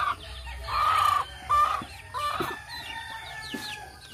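Chickens on a farm where ducks are also kept, giving close, loud bursts of clucking and crowing-like calls in several separate outbursts, with no talking.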